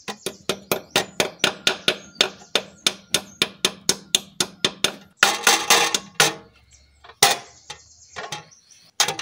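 Rapid, steady hammer blows ring out one after another, about three per second, seating a part in an Alfa Romeo 147 clutch assembly, then give way to a few heavier, irregular clanks and scrapes of metal.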